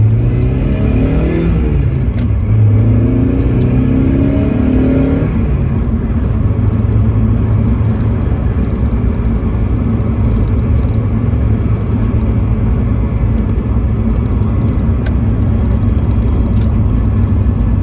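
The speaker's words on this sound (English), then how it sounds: "hopefully the audio will be good enough that you'll be able to hear some engine noise" Steady loud drone from a 1989 Mazda MX-5 engine while driving, with a pitch rising and shifting through the first few seconds as it accelerates and then holding a constant rumbling cruise, no talking.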